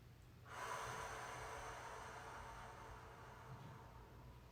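A single long, slow inhalation during a guided meditation, soft and airy, rising in and then trailing off over several seconds against a quiet background.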